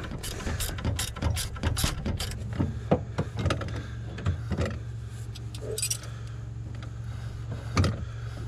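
A jack being cranked to lower a neglected Bobcat S185 skid steer clicks out a steady, close ratcheting rhythm of metallic pawl clicks and gear noise, with light clinks between strokes.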